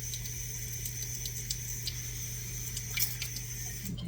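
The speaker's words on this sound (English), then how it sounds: "I'm running my cold water." Cold water runs steadily from a kitchen tap in a continuous, even hiss and splash with faint drips, near and alone, no talking.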